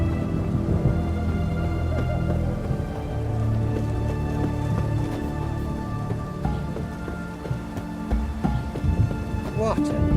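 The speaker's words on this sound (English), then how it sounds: "What a downpour." Heavy, steady downpour in The Witcher 3: Hearts of Stone, a dense wash of rain drumming on surfaces with low rumbling underneath and a brief burst of activity near the end.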